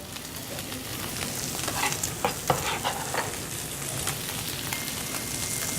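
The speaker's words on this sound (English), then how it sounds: "just a quick little stir here so it can cook evenly" Sausage, onion and celery sizzle steadily in a pan for a sausage bread pudding while a spoon stirs through them, with soft scraping accents over a constant, moderately quiet frying hiss.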